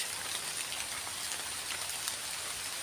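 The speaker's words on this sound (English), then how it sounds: "it's throwing it down with rain" Heavy rain pours down steadily at a sugar cane lorry loading site, a dense, even hiss of drops on surfaces with no speech.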